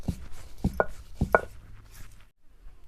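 Green chillies being coarsely ground for a peanut chutney, heard as a few close, rhythmic thuds and grinding strokes with no one talking.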